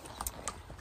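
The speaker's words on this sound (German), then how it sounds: "Mein altes Pferd." A horse's hooves clip-clop at close range in a few quick, irregular strikes over less than a second, with no voices over them.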